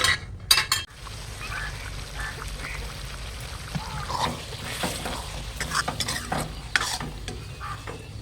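Small sambar onions (shallots) cook in a pan, with a constant sizzle broken by frequent clanking, scraping stirs of a utensil against the metal throughout.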